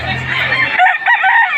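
A rooster crows loudly and close by at the Padre Garcia livestock market in Batangas, a single drawn-out call with a rising then wavering tail.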